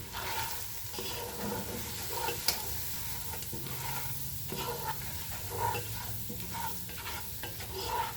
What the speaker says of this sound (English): as we're cooking, I'm going to be stirring